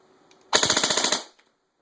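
Daniel Defense M4 airsoft gun with a high-torque motor firing BBs in a fast burst of about a dozen sharp, evenly spaced cracks lasting under a second, close and loud, then silence.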